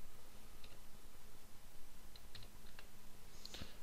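Faint, scattered keystrokes on a computer keyboard tap out a few quick clicks over a steady background hiss, with no voices.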